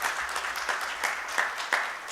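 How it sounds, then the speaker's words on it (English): Audience applause at a secretarial standards launch event, steady dense clapping from a crowd with a few sharper individual claps standing out near the front, with no talk. "I request all of you give a loud applause for these people"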